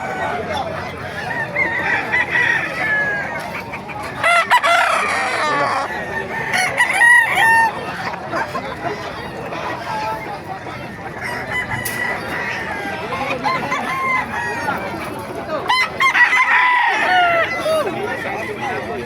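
Roosters crow and hens cluck at a busy outdoor pet market in Baliuag, with repeated loud crows rising over the crowd noise and people talking nearby.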